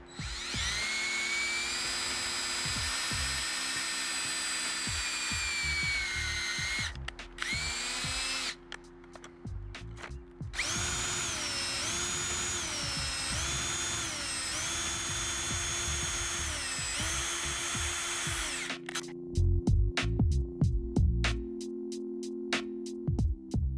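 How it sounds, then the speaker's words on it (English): A power drill whirs loudly through wood boring pocket holes in several long bursts, with brief pauses between runs as it winds up and spins down. "We're gonna drill these bad boys some pocket holes."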